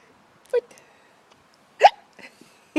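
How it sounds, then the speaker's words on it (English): A baby lying in a hammock hiccups three times at irregular intervals, each short and close, with faint small sounds in between. "You have the hiccups."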